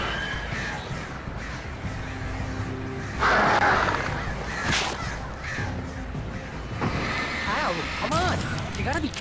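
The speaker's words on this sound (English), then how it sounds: "Retextured birds!" Crows caw harshly several times in the video game Alan Wake, repeated calls over a dense ambient game soundscape with someone talking over them.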